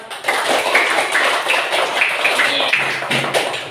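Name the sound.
classroom applause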